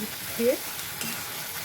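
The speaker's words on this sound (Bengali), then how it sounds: "দিয়ে ভালো করে মশলাটাকে কষে নেব তেলটা ছাড়ছে আস্তে আস্তে মশলা" Spice masala cooking down in oil in a kadai for an egg curry, a soft, brief sizzle with one quick stirring scrape near the middle.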